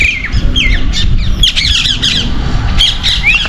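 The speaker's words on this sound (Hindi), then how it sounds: "देखा आपको, ये तोते डोल रहे हैं।" Parrots squawk repeatedly outdoors in misty countryside near a river, their loud, harsh calls coming in several bursts over a steady background rumble.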